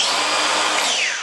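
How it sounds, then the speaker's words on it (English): A Milwaukee cordless angle grinder, running normally, whines loudly at full speed with a steady high-pitched hum, then starts spinning down. "us all know that grinders should sound like this"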